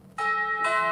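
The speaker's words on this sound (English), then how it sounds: "That was my doorbell." A doorbell at home gives two quick, bright, ringing electronic chime tones, clear and sustained, heard alone after a brief moment of quiet.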